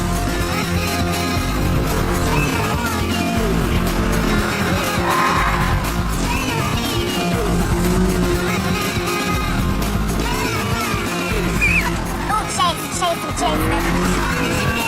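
A TVR Tuscan 2 sports car with 350 brake horsepower driven hard on a track, its engine roaring loudly and continuously with shifting revs and tyre squeal throughout, no talking.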